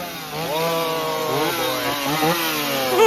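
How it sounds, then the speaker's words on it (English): Chainsaw revving at a Halloween haunted house, a continuous buzzing engine whine with wavering pitch swoops, fairly close and loud, ending in a sharp rev. "Oh, another chainsaw."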